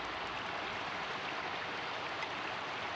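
Continuous near babble of streaming water from a fishing video game set on a summer vacation, even and constant throughout with a few faint tiny ticks on top, no talking.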